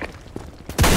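In the Sudden Attack 2 shooter on the A Supply Base map, a few soft thumps lead into a sudden loud, broad grenade burst that erupts right at the end.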